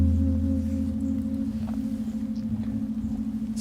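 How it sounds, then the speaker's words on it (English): An antique singing bowl rings with a sustained, steady hum of layered tones that gently pulse and waver as it is played, heard alone and fairly close. "And this is an antique bowl."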